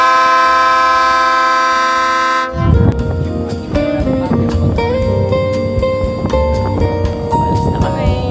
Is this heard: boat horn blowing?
yes